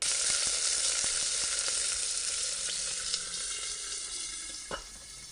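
Loofah (luffa squash) slices sizzle steadily in a little oil in a pan, a loud continuous hiss and crackle with a few sharper pops and spits.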